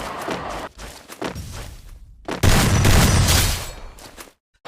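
Gunfire in the mobile shooter Free Fire: several short, punchy bursts in quick succession, then a louder sustained volley lasting about two seconds before everything drops to silence.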